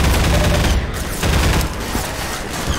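Dense, sustained gunfire from the video game Half-Life 2, a continuous loud fusillade of overlapping shots with heavier bursts, filling the whole stretch without pause.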